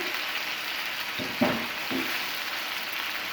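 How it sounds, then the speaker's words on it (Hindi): Chicken fries gently in a pan over a low flame, a steady soft sizzle close by with a few brief stirring scrapes partway through. "अब चिकन को हम यहाँ पे लो फ्लेम पे अच्छी तरह से दोनों साइड से कुक कर लेंगे।"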